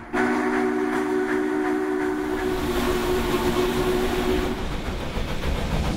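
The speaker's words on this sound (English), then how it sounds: "You're the actual one that, pulls the throttle, blows the whistle, controls the slack and speed." A locomotive horn sounds one long, steady, loud blast lasting over four seconds above the rumble of a moving train, then cuts off and leaves only the rolling rail noise.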